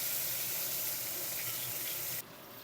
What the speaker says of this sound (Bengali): এই তেলের মধ্যে তুলে দেব পটলগুলো। দিয়ে পটলগুলো ভালো করে লাল লাল করে ভেজে নিতে হবে